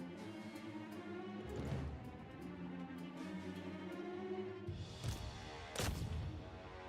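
Artillery pieces fire in the Total War: Warhammer battle game, a few deep booming shots spaced apart over a steady low battlefield rumble and a droning tone.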